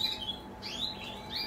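Small aviary birds kept as breeding pairs give faint, thin chirps and tweets over a steady background hum, several calls scattered through the moment.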